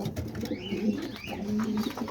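Pigeons coo softly in a loft among adults and new baby pigeons, several low throaty rolling calls overlapping with faint chirps and rustling nearby.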